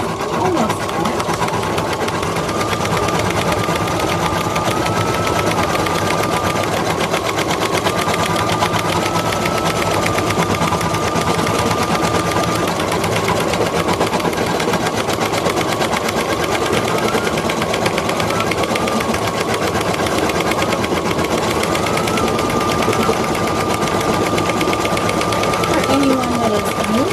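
An embroidery machine stitches a placement line onto a felt mask, running as a steady, continuous mechanical whir with a faint high tone throughout, while a voice talks over it.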